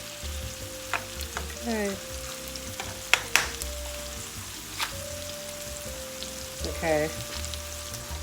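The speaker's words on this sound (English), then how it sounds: "We're gonna let this cook on the side for a little bit and let it saute a little bit." Meatballs fry and sauté in a pan with a steady close sizzle, broken by sharp clicks and scraping knocks of a utensil, while a voice speaks briefly.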